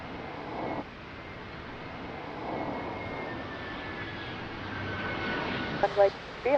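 A fixed-wing airliner on approach to runway 02 at Lisbon Airport, a faint steady engine drone heard at a distance, with brief radio-like bursts and clicks near the end.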